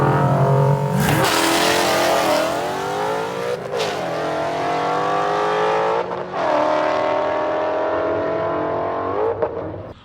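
A car with a Ford Coyote V8 engine swap accelerates hard, loud and close, its roaring note climbing through several gears with brief dips at each shift.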